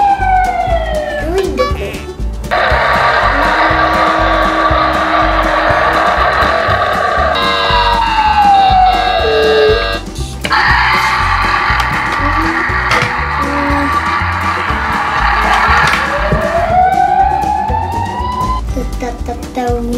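A toy ambulance siren from an emergency vehicle set wails in rising and falling sweeps, loud and close, repeating several times with short breaks between bursts.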